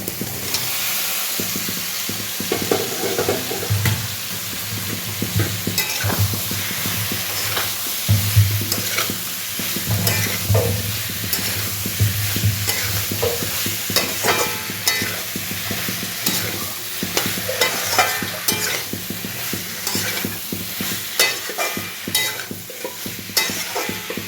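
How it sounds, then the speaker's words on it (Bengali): Vegetables frying in hot oil, a loud continuous sizzle and hiss close by, with a utensil scraping and stirring in frequent irregular strokes throughout and no talk. "দেখুন তেল ছেড়ে গেছে, এবার আমি সবজিটা দিয়ে দেব।"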